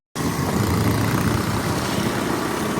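A motorbike engine idles steadily before setting off, a continuous low rumble that holds level and fairly loud from start to end with no speech.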